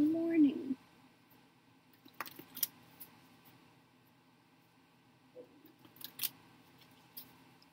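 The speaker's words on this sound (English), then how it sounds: "Get started pulling cards here" Tarot cards are pulled from a deck and handled, making soft scattered slides, flicks and light taps close by, with quiet background and a brief voice at the start.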